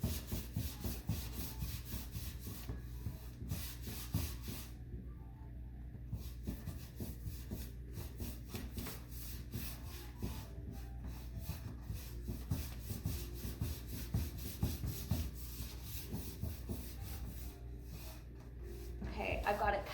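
Brushing clear wax into a chalk paint finish on a furniture piece: soft, quick, close rubbing strokes of a brush over the painted surface, repeated in a steady back-and-forth rhythm throughout, quiet and unaccompanied by talk.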